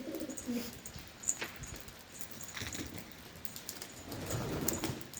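Wild feather-footed pigeons cooing softly and intermittently nearby, low murmuring calls with faint rustles and a few light clicks, quiet overall.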